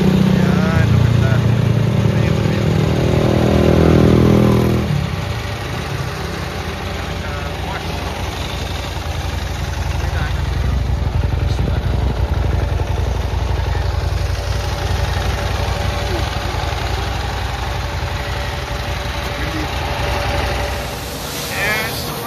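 A motorcycle idles in steady rain in Aurora province, a low continuous engine rumble under a constant wash of rain hiss, with occasional faint voices in the background.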